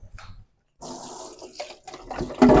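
Vegetables such as moringa leaves and bean sprouts washed under running tap water, a short splashing rush after a brief pause, loud and close.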